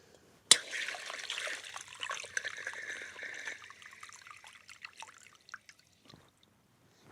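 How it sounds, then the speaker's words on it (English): Water trickles and drips from a newly connected pipe on a farm, beginning with a sharp gush and then thinning into soft, close splatters and drips that fade toward silence. "The water is on."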